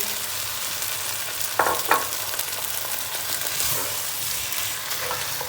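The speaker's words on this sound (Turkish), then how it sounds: "Haşlamış olduğumuz 2 su bardağı yeşil mercimeği ilave ediyoruz." Two cups of boiled green lentils go into a hot pan, and a steady sizzle follows with a couple of brief clatters and stirring sounds near the start. The sizzle stays fairly loud and no one speaks.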